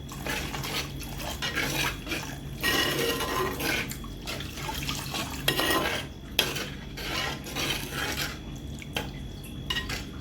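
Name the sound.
water poured into masala gravy for fish curry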